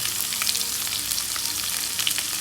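Chopped onion frying with ginger and garlic in a hot pan, a steady bright sizzle with occasional crackles and soft stirring scrapes, close and continuous with no talking.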